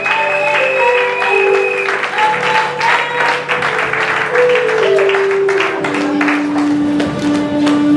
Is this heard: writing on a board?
no